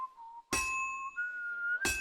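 A crisp metallic ping from a clean strike during lockpicking in the game Kingdom Come Deliverance 2. A clear ringing tone lingers over a steady whistle, with two sharp bright hits.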